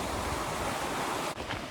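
Bald River water flows in a steady broadband rush close by, continuous and unbroken apart from a brief dip near the end, with no voices.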